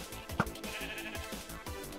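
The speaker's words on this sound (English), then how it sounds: "I hit the sheep that Break was near." Sheep bleating when struck in a Minecraft UHC match, one short bleat over steady game music and background sound.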